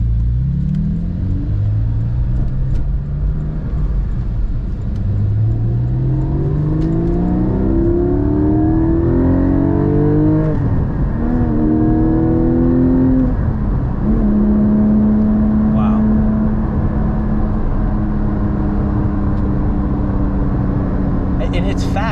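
A manual Porsche GT4 accelerates at half throttle, its engine droning loudly and rising steadily in pitch through the gears with brief drops at each shift, heard from inside the cabin under occasional talk.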